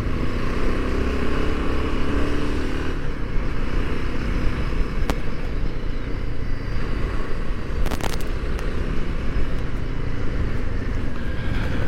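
A Royal Enfield Himalayan 450 motorcycle accelerates on a performance test run, its engine a continuous close roar mixed with heavy wind rush, with a couple of sharp brief clicks partway through.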